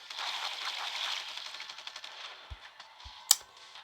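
Gunfire in The Walking Dead: No Man's Land comes as quick, faint rattling bursts of small shots, ending with a few sharper isolated cracks.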